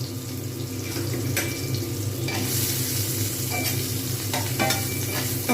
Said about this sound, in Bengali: এবার পেঁয়াজগুলোকে সুন্দরভাবে ভেজে নেবো ততক্ষণ পর্যন্ত না নরম হচ্ছে